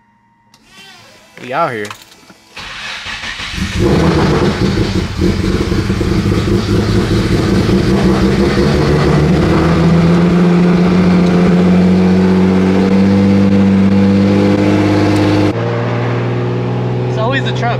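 A Nissan Z engine cranks and fires up, then settles into a loud, sustained rev with rising pitch that holds for several seconds before dropping off, with a brief spoken voice near the start.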